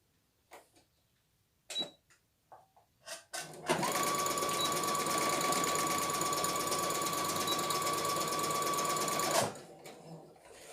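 An electric sewing machine runs a straight stitch joining the short ends of an elastic waistband, a steady rapid whirring hum for several seconds after a few soft handling clicks, close and alone.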